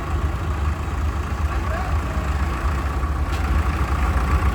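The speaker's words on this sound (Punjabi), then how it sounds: "ਟਰੈਕਟਰ ਚੱਲੇ ਭਰਾ ਲੈ ਚੱਲੇ ਆਪਣੇ ਘਰਾਂ ਨੂੰ" Heavy diesel engines rumble steadily, a low continuous drone of Digitrac PP 46i tractors idling and running close by, with muffled voices in the background.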